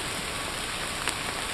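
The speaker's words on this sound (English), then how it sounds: "See? Here comes the rain." Steady rain falls in an outdoor mountain setting on a damp summit expedition, a continuous even hiss with no speech over it.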